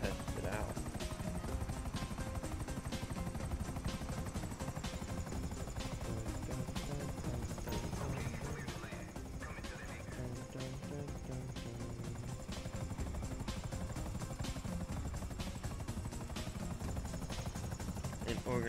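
A cargo plane flying in the video game GTA 5 gives a dense, continuous engine drone that stays loud throughout, with a voice talking over it.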